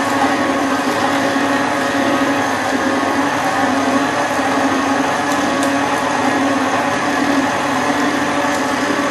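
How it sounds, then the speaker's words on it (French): Stand kitchen mixer beating Christmas cookie dough with a splash guard fitted: a loud, steady motor whir with a grinding, churning texture that runs unbroken and unchanged throughout. "Et avec le robot, ça se fait tout seul."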